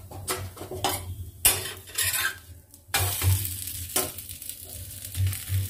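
Bottle gourd fritters sizzle in hot oil over a high flame, with a steady crackle broken by repeated clinks and scrapes of a metal utensil against the pan.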